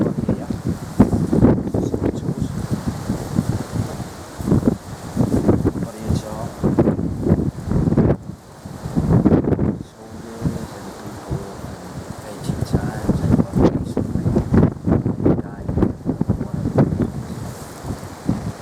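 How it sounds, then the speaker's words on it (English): Strong wind on the cliff at Scarborough Castle, buffeting the microphone in loud, irregular gusts and rumbles that rise and fall continuously, with a person speaking underneath at times. "But it's really windy."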